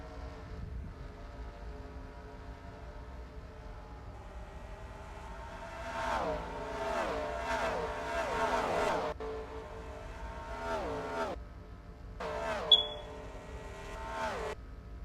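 Race cars in a Las Vegas stock-car racing video game roar past one after another, engine pitch sweeping downward in several overlapping flybys, with a steady drone of other cars underneath.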